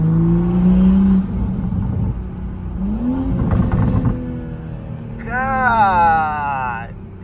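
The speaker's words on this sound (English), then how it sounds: "y'all hear these burbles?" A Toyota Supra fitted with a 5-inch downpipe idles and blips its engine close by, with rumbling exhaust burbles and pops between revs. A whining rise near the end may come from the turbo.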